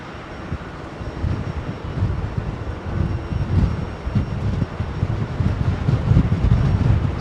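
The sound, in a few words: Qantas Boeing 787 airliner at Heathrow Airport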